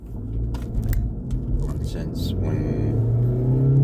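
Car interior engine rumble, a steady low hum building slightly as the car drives on, with someone talking over it throughout.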